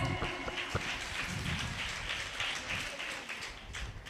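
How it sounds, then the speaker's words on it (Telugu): Women at a Bible quiz meeting clap together, a dense, steady patter of many hands that keeps going without a break, close by and moderately loud. "క్లాప్స్."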